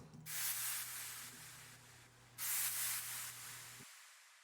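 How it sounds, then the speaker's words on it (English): White noise layer drenched in wet reverb, a soft broadband hiss that swells in two waves over a low sustained tone before cutting off abruptly near the end. "So the white noise signal sounds like this."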